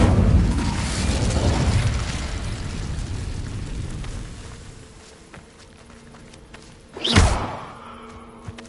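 Incendio fire spell cast in Hogwarts Legacy, a single sharp whooshing burst that flares up loud and then fades, following a stretch of rumbling ambient game noise.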